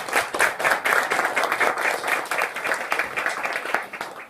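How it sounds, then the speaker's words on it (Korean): A small church congregation in Korea claps together during a service, dense, steady applause that stays lively for several seconds. "이 자리를 주신 우리 하나님께 잠깐 영광의 박수 올리겠습니다."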